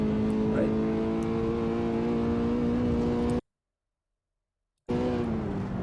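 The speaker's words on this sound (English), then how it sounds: "when I'm confident that I'll be able to complete this turn, I get hard on the gas" Toyota GR86 engine in Assetto Corsa accelerating hard at Sonoma Raceway, a loud sustained rising drone that drops out entirely for about a second and a half before resuming, with a voice talking over it.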